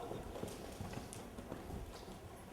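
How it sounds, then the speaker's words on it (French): Horse cantering during a riding lesson, with soft rhythmic hoofbeats on arena footing repeating steadily through the clip, moderately near. "tu vas demander à ton cheval de galoper"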